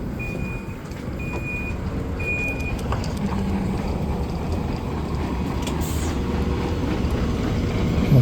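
A train ride in Germany: a steady, even rumble of a moving carriage, with three short electronic beeps early on and no talk.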